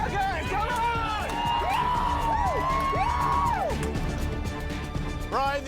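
Studio crowd shouting and whooping to urge on a cooking team during a timed Asian-cuisine team challenge on a cooking competition show, with excited voices rising and falling continuously over busy kitchen noise.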